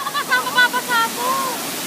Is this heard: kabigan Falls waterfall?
yes